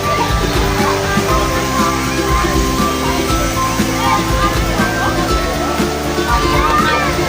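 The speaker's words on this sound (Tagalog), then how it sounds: "meron pang maliit na falls." Small waterfall at a beach resort swimming pool splashes steadily at close range, with continuous rushing water overlaid by voices talking nearby and faint background music.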